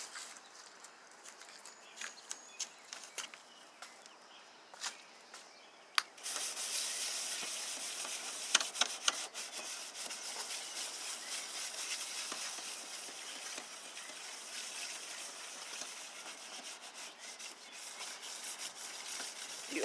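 A car headlight is scrubbed with a paste of baking soda, salt and lemon: steady close rubbing and gritty abrasive scraping, beginning with a few scattered taps and then running continuously, fairly quiet, with no talking.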